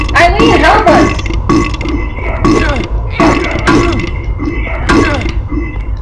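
A voice imitates burping with four loud, throaty belch-like bursts in a steady rhythm, close to the microphone, during a Silent Hill 4: The Room play session.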